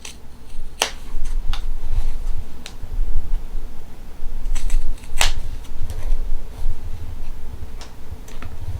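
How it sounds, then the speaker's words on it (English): Scissors snip the fabric corners of a thread catcher in a few sharp, close clicks separated by short pauses, with quiet handling noise in between. "So now I'm just gonna snip my corners out."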